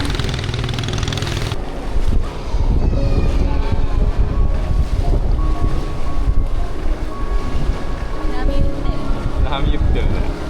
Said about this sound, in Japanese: 楽しい、ロングボート。